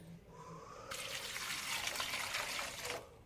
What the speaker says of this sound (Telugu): ఇట్లా కొన్ని వాటర్ అనేది వేసేసుకోవాలా